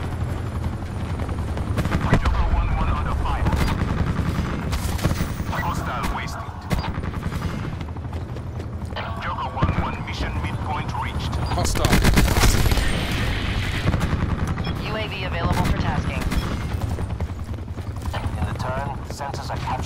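Gunfire fills a military shooter video game match: sharp shots and bursts crack repeatedly over a dense, busy background. Radio-style voices and other game sounds are mixed in throughout.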